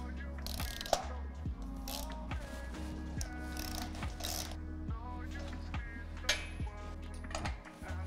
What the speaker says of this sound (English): Now I screw the four bolts.